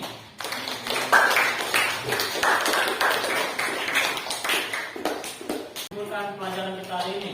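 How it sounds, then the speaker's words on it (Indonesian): Students clap together in a classroom, a dense, lively round of applause with light chatter mixed in, ending in a quieter stretch where a voice speaks. "Sekali beri tepuk tangan untuk yang sudah menyimpulkan pelajaran kita hari ini."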